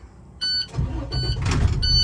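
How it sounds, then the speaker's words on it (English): A truck engine cranks and starts inside the cab, a short whir followed by a rising, steady mid-pitched rumble with brief electronic chimes, no talking. "So I'm gonna start the truck"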